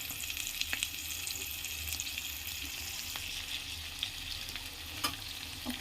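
Tomatoes tipped into onions and cumin frying in a pan for paneer butter masala, an even, fairly quiet sizzle with scattered light clicks and scrapes from stirring, close up and with no talking.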